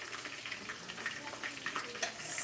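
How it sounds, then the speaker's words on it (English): Spices frying in hot oil give a soft, steady sizzle with light crackles and stirring, close and moderately quiet, with no talk. "because you are frying it like in the oil"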